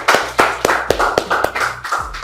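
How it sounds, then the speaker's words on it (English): A few people at a photography lighting class clap for themselves, giving a short run of loud, close, separate handclaps at an uneven rhythm. "Let's clap for ourselves."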